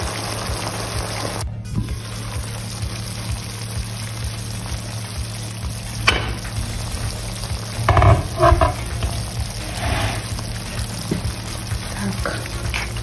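Kuyrdak, a Kazakh meat dish, sizzling and stewing in a pan, with a steady soft crackle punctuated by a few louder stirring clatters midway.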